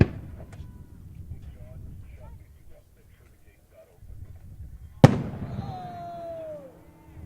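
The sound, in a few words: handmade fireworks exploding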